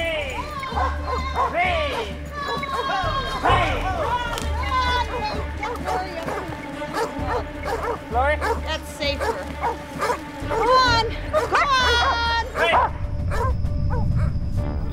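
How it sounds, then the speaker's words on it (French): Several hunting dogs on a bear's scent bark and yip repeatedly in excited bursts, with whimpers mixed in, over a steady low rumble and background voices. "Les aboiements des chiens sont impressionnants"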